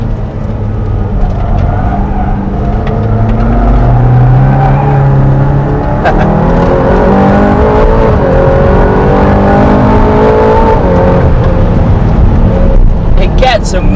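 An Aston Martin Valhalla accelerates hard, its engine note climbing through rising revs with gear changes, loud and close throughout.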